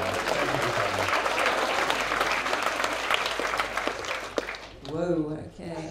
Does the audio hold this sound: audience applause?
yes